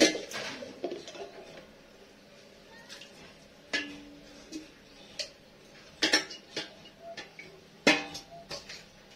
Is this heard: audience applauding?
no